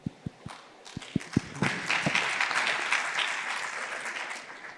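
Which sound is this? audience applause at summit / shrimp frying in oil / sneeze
audience applause at summit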